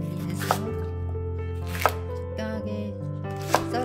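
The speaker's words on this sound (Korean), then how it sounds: "대파도 준비해서" Three sharp knife chops through green onion on a cutting board, spaced apart, over a steady background hum.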